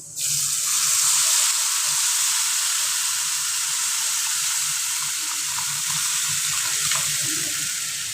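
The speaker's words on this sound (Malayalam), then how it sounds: "അതിനകത്തേക്ക് നമ്മൾ റെഡിയാക്കി വെച്ചിരിക്കുന്ന മോരുകറി പയ്യെ ഒഴിച്ചു കൊടുക്കണേ" Buttermilk curry poured slowly into a hot pan, a loud continuous hiss and sizzle that holds steady throughout, with no speech.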